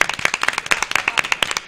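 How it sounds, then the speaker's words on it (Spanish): An audience in a TV studio applauds the technical team of an afternoon programme, a brisk run of close hand claps at an uneven rhythm, fairly loud and without speech. "hay que aplaudir el equipo técnico de este programa"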